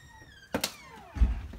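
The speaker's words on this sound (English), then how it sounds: "going in through the front door" Front door of a house being opened on entry: a couple of quick knocks from the latch and handle, then a heavier low thump as the door swings and settles, fairly close and fairly quiet.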